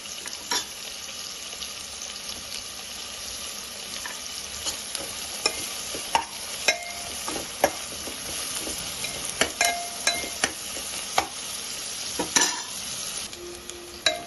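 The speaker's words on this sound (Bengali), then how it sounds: "পেঁয়াজটা ভাজা হয়ে গেছে, ঠিক এইভাবে এইটুকু পেঁয়াজটা ভেজে নিতে হবে।" Onions frying in a pan for mutton korma, stirred now and then: a steady close sizzle broken by sharp scraping clicks of the spoon, with no talking.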